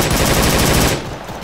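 Rapid automatic gunfire in the Arma 3 military shooter during a fire-and-movement drill, loud, dense and sustained for about a second before cutting off into softer background noise.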